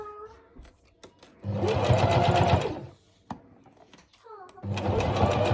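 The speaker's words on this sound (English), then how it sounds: "with your longest stitch length sew that along the line that you've already sewn and you've sealed it shut" Sewing machine running at a steady fast rhythm on its longest stitch length, sewing flippers onto a fabric body along an existing seam, in two loud close bursts separated by a pause in which a voice is heard.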